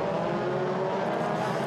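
Formula 3 cars of the 2015 European Championship at Portimao scream down the start-finish straight, a loud sustained high engine wail holding steady throughout.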